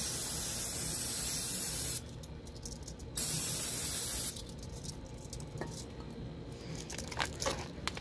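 Cleaner sprays onto a wheel bearing during a rear brake backing plate job in two long, loud, steady hissing bursts. Shorter, quieter squirts and handling noises follow, with no talk.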